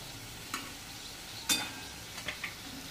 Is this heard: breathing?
no